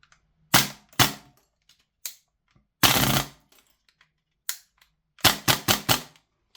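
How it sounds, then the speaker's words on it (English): An Archwick APC9-K airsoft replica dry-fired: sharp, snappy mechanical clacks, close and loud, a few single shots spaced apart, then a quick burst of four in rapid succession. "We can give it a quick dry fire, make sure it works."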